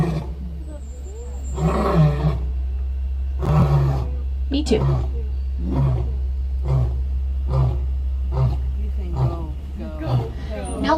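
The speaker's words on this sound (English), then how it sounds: "Now, lion roars can be heard up to 10 miles away." A lion roars repeatedly in a rhythmic series of deep grunting calls, moderately close and strong, while onlookers at a wildlife park murmur and talk in the background.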